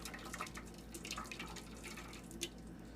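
Tomato bisque puree pours through a strainer with a steady liquid trickle and soft dripping, close and fairly quiet, with one brief louder splash near the end.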